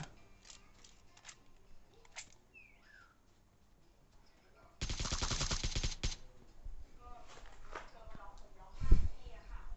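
A loud burst of rapid gunshots in the shooter game PUBG Mobile bursts out partway through, preceded by scattered quieter shots and game sounds, with a player talking in the background.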